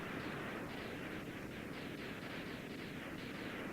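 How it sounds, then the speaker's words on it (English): Chill Penguin, a boss in Mega Man X, bursting apart in a string of rapid retro game explosions, a steady, dense crackle of repeated blasts with no talking. "When you defeat bosses, they explode in a nice display of fireworks."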